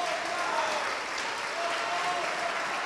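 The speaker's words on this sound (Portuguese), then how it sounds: "vamos aplaudir ao nome do Senhor" A church congregation claps in praise during a sermon, a loud, continuous wash of applause with faint voices and a brief tonal sound threaded underneath.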